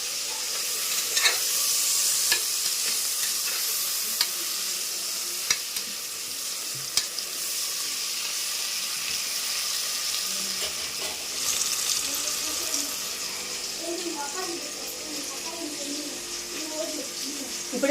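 Tomatoes and bay leaves fry in a pan with a continuous close sizzle, broken by scraping stirs and occasional sharp pops, while someone talks over the cooking.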